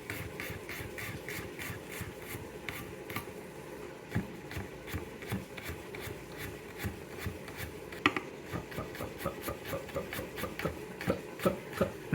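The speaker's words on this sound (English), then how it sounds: "So that's one way to like finely dice the garlic." Knife finely dicing garlic on a cutting board, a fast run of light, evenly spaced taps and chops that grow sharper and more pronounced toward the end, close by with no talking.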